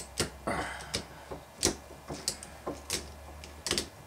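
Clicking from a fly-tying dubbing brush tool while a woven silverside fly is tied: a close series of sharp, irregular ticks and clacks, fairly faint, with no talking.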